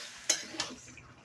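Stirring cauliflower curry with coriander leaves in a pan: two sharp scrapes of a utensil against the pan a moment apart, then a soft fading stir, close and fairly quiet.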